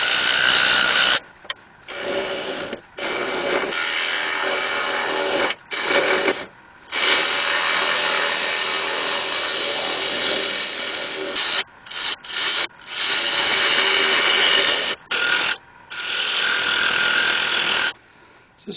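A lathe tool cuts a recess into the underside of a cherry wood bowl lid, giving a loud, steady rubbing scrape in long bursts separated by short silent pauses.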